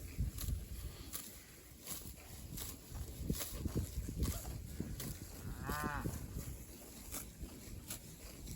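Cattle out in a farm field, with one short moo rising near the six-second mark over a steady rustle of outdoor noise and scattered low thumps.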